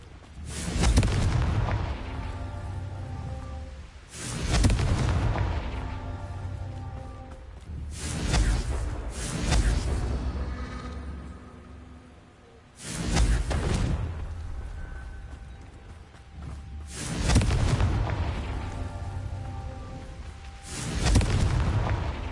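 Hogwarts Legacy Confringo blasting spells go off as a run of loud, booming fiery explosions, about five heavy blasts spaced several seconds apart, each trailing a rumbling decay.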